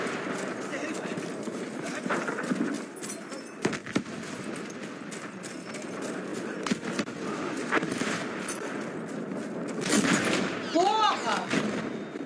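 Gunfire and rocket launcher shots ring out in a video game firefight, with repeated sharp reports and bursts layered under constant battle noise while someone talks over the action.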